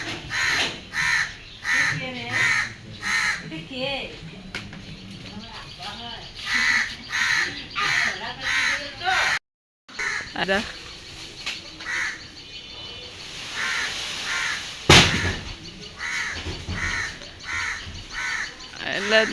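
Crows caw repeatedly outdoors near flowering hibiscus, with loud, rhythmic calls recurring throughout over a steady background, with people talking at times and a brief dropout near the middle.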